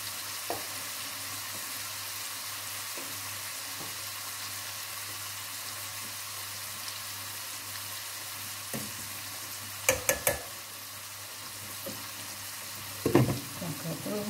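Spaghetti boils in a large pot of water, giving a steady low bubbling and simmer under a few sharp clinks of utensils against the pot.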